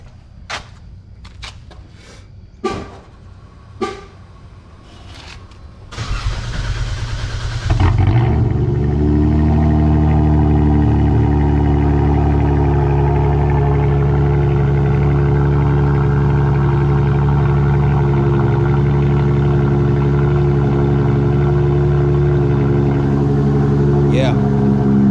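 A Chrysler 300 engine cranks after a few knocks and clatters, then catches and settles into a loud, steady idle that drones on close by to the end.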